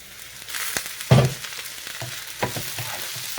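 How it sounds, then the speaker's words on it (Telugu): Eggplant pieces sizzle softly in a pan, with a louder scrape and stir around the middle and a few lighter clatters after. "చక్కగా వంకాయలు వేగుతున్నాయి కదా"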